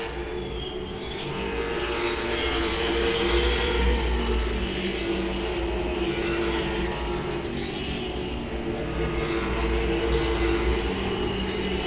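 Late model race cars at Langley Speedway roar past in a steady, loud pack, engine drone swelling and easing as they battle for position, with no talk over it.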